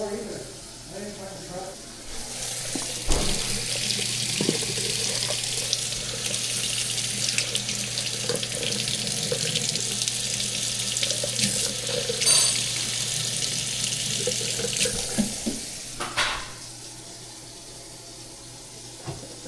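Kitchen faucet running hot water into a sink during drain unclogging work, a steady splashing stream that swells and fades with occasional clunks, while people talk over it.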